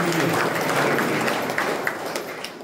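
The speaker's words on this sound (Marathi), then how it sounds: "आपण टाळ्या वाजवत" A crowd at a religious gathering claps hands together in a dense, sustained burst that gradually eases, heard at moderate distance with a faint voice underneath.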